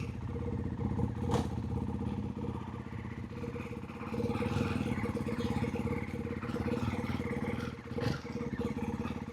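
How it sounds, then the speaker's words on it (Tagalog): A Ducati motorcycle with its stock exhaust rides along with a steady mid-pitched engine drone that rises and holds. Faint rattles and brief bursts of wind noise sit over it, and the engine stays close and fairly loud. "Cute ang tunog ng stock exhaust eh, no?"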